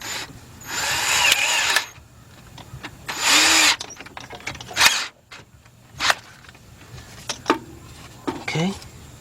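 Power tool running in several bursts as 12 millimeter bolts are driven and tightened during a timing belt and water pump job on a Kia/Hyundai V6, with short clanks between runs and brief talk.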